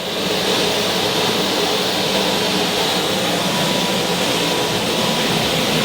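Private jet aircraft engine, a loud, constant broadband roar and hiss that holds steady throughout, close by with no talking.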